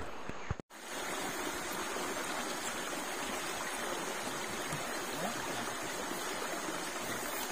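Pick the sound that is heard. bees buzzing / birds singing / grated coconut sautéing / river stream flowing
river stream flowing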